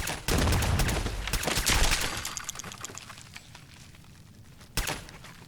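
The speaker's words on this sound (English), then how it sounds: "How is this pistol one-shotting Meyerlarks?" A pistol fires at Mirelurks in the game Fallout 4: a quick run of sharp, close shots in the first two seconds, then a quieter lull and one more crack near the end.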